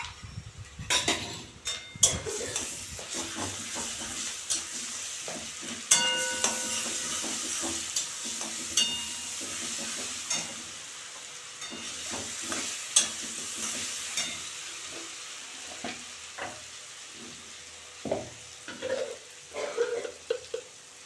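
Onions with ginger-garlic paste frying in oil for a prawn and taro-stolon curry, a steady close sizzle broken by repeated scraping stirs and light clinks of a spoon against the pan.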